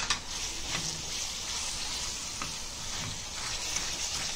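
Green peas frying in an egg paneer gravy, a soft, steady sizzle with intermittent scraping strokes of a spoon against the pan, fairly quiet and close.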